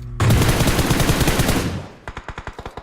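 Rapid automatic gunfire in the PUBG battle royale game, a dense loud burst of continuous shots followed by a string of separate, evenly spaced single reports.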